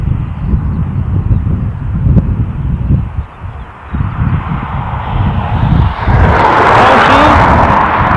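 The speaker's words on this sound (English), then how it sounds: "over yonder on the far side we've got an ATR 72 Aer Lingus on its way in from Birmingham" An Aer Lingus ATR 72 turboprop airliner coming in to land at Dublin airport after a flight from Birmingham, a steady distant engine drone that swells louder and brighter toward the end, with wind and birds around.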